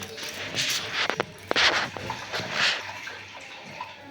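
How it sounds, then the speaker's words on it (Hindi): Sabudana (sago pearls) are washed in water by hand, giving irregular splashes, sloshes and swishes in several bursts, close and moderately quiet, with no talking. "अभी इसे अच्छे से पानी से धो लेते हैं"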